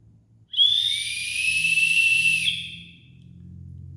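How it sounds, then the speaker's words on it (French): A single shrill, piercing whistle shaped like a dragon's head blown for about two seconds, wavering slightly in pitch before cutting off, over a faint low hum. "Tête de dragon, vous voyez les cornes et tout. Et en fait, c'est un sifflet."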